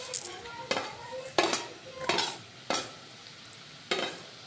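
Pre-fried okra is stirred into sizzling masala in a pan, with about six distinct scraping strokes at an even pace over a soft, constant frying sizzle.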